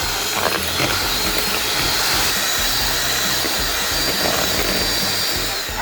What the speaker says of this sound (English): So with the egg whites, we're just going to mix.